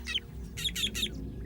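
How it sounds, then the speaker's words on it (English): A drongo gives a warning call to meerkats: four short, sharp, harsh calls in quick succession, fairly faint over a quiet outdoor background. "He spots an eagle on the hunt and sounds a warning."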